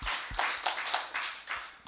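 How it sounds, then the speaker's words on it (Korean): Church congregation clapping together in a brief, steady run of rhythmic claps at moderate level, with no voices over it. "우리 하나님께 영광의 박수 한번 올리도록 하겠습니다"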